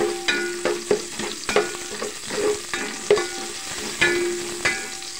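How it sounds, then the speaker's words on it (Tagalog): Tadtarin sautéing in a pan, with a soft continuous sizzle and repeated rhythmic scrapes of a spatula stirring at close range. "Ako po kasi nagigisa."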